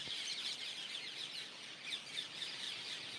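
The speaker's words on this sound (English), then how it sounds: "That's the sound of parakeets." Parakeets calling on the island of Kauai, Hawaii, at sunset: a steady, bright chorus of chirps and squawks with a few louder calls standing out, heard at a moderate distance.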